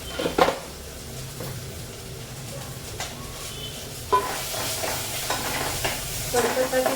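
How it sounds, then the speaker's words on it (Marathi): Chopped onion and tomato fry in a pan with a steady sizzle and hiss. Spoon stirs scrape now and then, close up and louder near the end, with no talking. "कांदा टॅमॅटो चांगलं भाजलेलं आहे"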